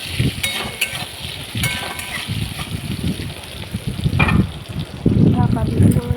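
Salted potatoes fry in oil in a kadai while being stirred, with a continuous loud sizzle broken by scraping and splattering bursts, growing busier toward the end.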